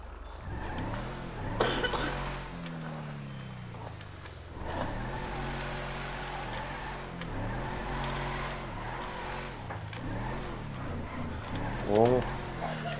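A car drifting in FiveM, the GTA V multiplayer game: a steady engine drone with rising and falling revs and sliding tone shifts, a player talking over it throughout.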